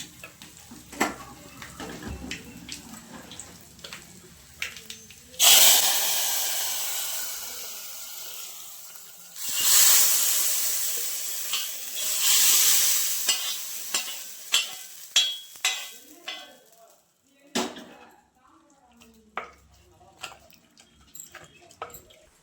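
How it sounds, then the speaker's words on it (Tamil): Asafoetida and spices tempered in hot oil: sharp sizzling bursts as ingredients hit the oil, then fading crackles and spoon clicks against the pan. "இது கூட ஒரு 3/4 ஸ்பூன் அளவுக்கு பெருங்காயம் போட்டுக்கோம். போட்டு தாளிச்சு கொட்டிடலாம்."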